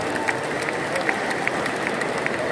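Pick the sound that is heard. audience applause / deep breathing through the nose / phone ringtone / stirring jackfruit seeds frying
audience applause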